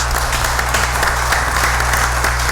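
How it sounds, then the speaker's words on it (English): Applause at a Biloxi city council meeting honoring Councilman Newman and Councilman Guines: a steady wash of many hands clapping in a large room, over a low constant electrical hum. "So I'd just like to kind of an applause for Councilman Newman, Councilman Guines"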